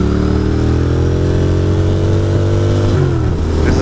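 Motorcycle splitting traffic through heavy rain on a wet Brooklyn commute, a loud steady engine drone with shifting pitch as it changes speed, close and continuous under a hiss of wind and rain.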